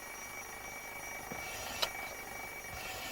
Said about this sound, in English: the ringing becomes quieter because the clock is now inside the jar